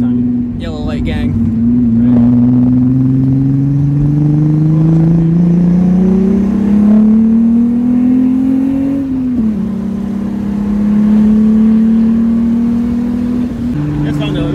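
VR6-engined car accelerating through the gears with a new clutch, engine pitch climbing steadily in long pulls with a brief drop at a shift, heard from inside the cabin and loud throughout.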